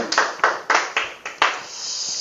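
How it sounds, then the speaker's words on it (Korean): A lecture-concert audience at a magic talk claps in a burst of sharp, rhythmic hand claps, about six quick strikes close together, then fading into a light murmur. "이때 박수 한번 주세요"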